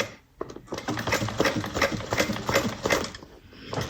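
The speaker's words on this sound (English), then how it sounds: "we're going to go ahead and top stitch" A sewing machine top stitches a bag, its needle hammering in a quick steady rhythm that starts after a short pause and runs close and loud to the end.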